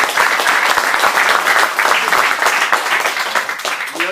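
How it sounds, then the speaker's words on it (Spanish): An audience applauds at a payadores event tied to a bakery in Burzaco, loud sustained clapping with distinct sharp hand claps standing out from the dense crowd noise, and a voice emerging right at the end. "merece hacia ellos un gran aplauso"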